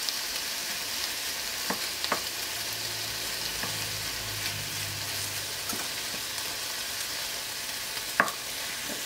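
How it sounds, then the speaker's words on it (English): Food searing in a hot pan, a continuous even sizzle with a few scattered utensil clicks and taps, close and moderate in level, with no voices. "In there and let it have a good sear."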